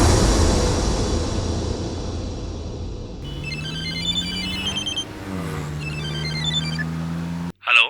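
A telephone ringtone plays loudly as repeated high electronic trilling bursts starting around three seconds in, over a low steady hum, with a brief loud thump right at the end.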